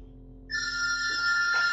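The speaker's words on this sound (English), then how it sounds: "There's a phone call." A video game telephone rings with a bright electronic trill that starts abruptly and holds steady, loud and close, with no talking over it.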